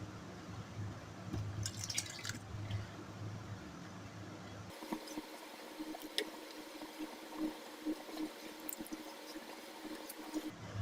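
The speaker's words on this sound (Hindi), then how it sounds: "आहिस्ता आहिस्ता अपने कस्टर्ड को डालना है और इस तरह से चम्मच चलाते रहना है।" Custard mixture poured slowly into boiling milk over a very low gas flame while a spoon stirs steadily, making lab-e-shireen; soft liquid sloshing and dripping with faint spoon scrapes, continuous and fairly quiet.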